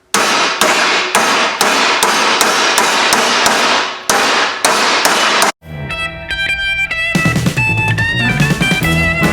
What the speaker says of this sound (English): I'm going to start pounding this out using my favorite body hammer, also known as a mason's hammer